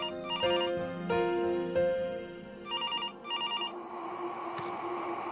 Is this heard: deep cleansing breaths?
no